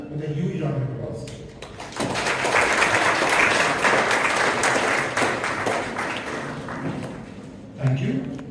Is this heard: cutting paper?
no